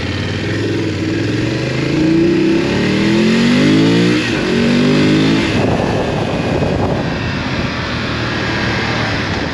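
A BMW F 850 GS Adventure 2022 motorcycle engine revs up with rising pitch, drops back, then climbs again before settling into a rough, loud roar nearby.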